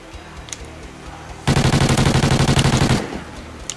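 An SMG in Call of Duty: Ghosts fires one rapid full-auto burst of about a dozen evenly spaced shots lasting roughly a second and a half, loud and close against quieter game ambience.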